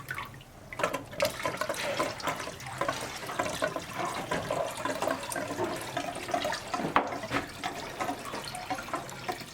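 Water gurgles and rushes steadily as it drains out of a boat's boiler, with splashing and bubbling close by and no one talking.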